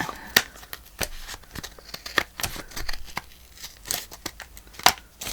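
Scissors snip away rubber glue along the edge of junk journal pages, making sharp, irregular cuts close by, mixed with paper rustling and crinkling.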